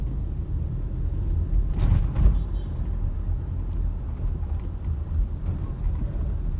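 Steady low rumble of street traffic heard from inside a car crawling through a jam near Taft in Manila, with engine drone throughout and a couple of brief louder passing swells early on, no talk.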